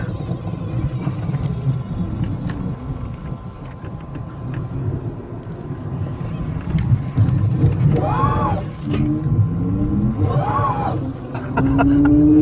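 A single-wheel vehicle accelerates, giving off a continuous motor rumble with a couple of rising whines toward the end, fairly loud and near over road and wind noise, with no one speaking.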